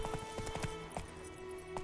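Horse hooves in The Witcher 3: Wild Hunt beat out a quick, even clip-clop at close range, with game music tones running faintly underneath.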